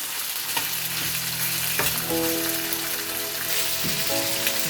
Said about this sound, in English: Then start adding our chicken pieces. So we're going to fry these a bit by bit.